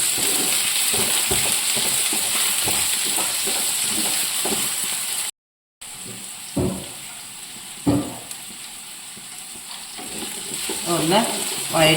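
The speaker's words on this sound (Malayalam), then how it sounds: "അപ്പോൾ ബീൻസും ക്യാരറ്റും ഉരുളക്കിഴങ്ങും കൂടെ നമുക്ക് ആദ്യം ഒന്ന് ചൂടാക്കണം" Beans, carrots and potatoes frying in a pan: a continuous crackling sizzle with rhythmic stirring scrapes, a brief dropout midway, then louder clanks and stirring, close up and without speech.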